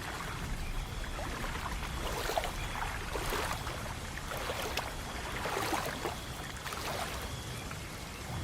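River waves lap and wash steadily at night, a continuous soft rushing of water with gentle swells, heard alone as a background sound effect in a Bengali horror story.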